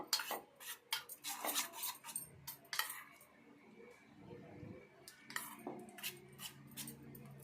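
A spoon clinks and scrapes against a steel bowl while mixing soaked rava and semiya for tomato dosa batter, giving a run of close, sharp metallic taps followed by softer wet stirring.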